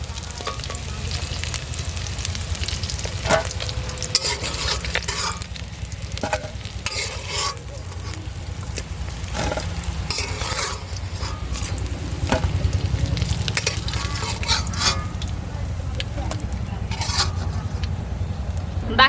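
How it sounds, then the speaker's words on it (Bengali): Egg-laden native tengra fish fry in oil, a steady close sizzle with frequent stirring and light clinks from the pan running throughout, growing a little louder toward the end. "বাকি মাছগুলো এই একই তেলে ভেজে নেব।"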